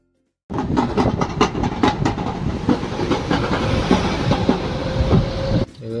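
Metro train passing near Malakpet metro station, a steady loud rumble with rhythmic rail clatter lasting several seconds before cutting off abruptly.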